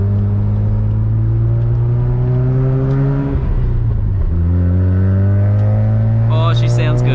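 A Mazda RX7 FD Bathurst R rotary engine drones loudly from inside the cabin while driving, its pitch holding steady, dipping briefly as revs drop, then climbing back, with a faint voice speaking near the end.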